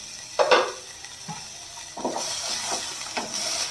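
Food in a pot is stirred after the lid comes off, with a utensil scraping and clinking against the metal several times over a soft sizzle, close by.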